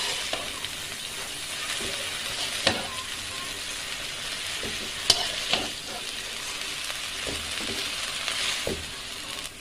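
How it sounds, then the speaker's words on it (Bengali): Salted dhenki greens are stirred in a hot pan, a steady low sizzle broken by several distinct scraping strokes at irregular intervals, close-up with no voices. "লবণ দিয়ে এখন হালকা নেড়ে দেবো।"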